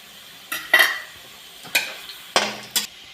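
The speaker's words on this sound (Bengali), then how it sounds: "তো দেখো উচ্ছেটা ভেজে নেই" Bitter gourd fries in a wok while a spatula scrapes and stirs in four short bursts, separated by quiet pauses.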